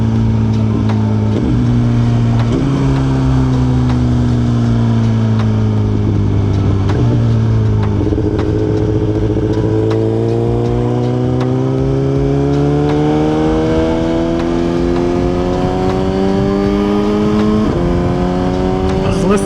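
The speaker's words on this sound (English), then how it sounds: "Listen to the engine." A Suzuki GSX-R 1000 sportbike engine roars loud and close while riding in traffic near an overpass, its steady drone rising and falling through gear changes and accelerations, continuous throughout.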